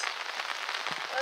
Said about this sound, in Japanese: ものすごい雨が降ってきましたね。